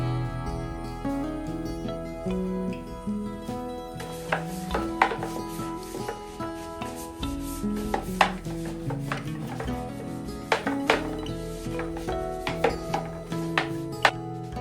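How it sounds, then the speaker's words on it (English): Farm animals' bowls are scraped and knocked clean, with irregular clattering and scraping strokes. A low tonal hum runs steadily underneath, and the busy scrubbing continues close up throughout. "I think for now I'm going to clean out their bowls"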